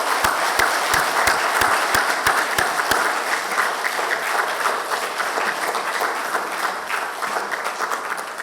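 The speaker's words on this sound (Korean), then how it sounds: "우리 입교 예식과 세례 예식을 받은 우리 세 분 성도들에게 축하의 박수 크게" A church congregation applauds newly baptized and confirmed members at a Sunday service, with loud, sustained clapping from a full room. A few distinct sharp claps stand out early, then the applause blends into a dense, continuous roar.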